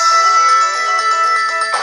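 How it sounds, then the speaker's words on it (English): Short melodic tone played through the built-in speakers of a Nintendo Switch 2 console, a bright repeating chime pattern heard clearly and fairly loud for under two seconds, with no talking over it. "when it comes to the sound here on the Nintendo Switch 2, yeah, you can tell the difference"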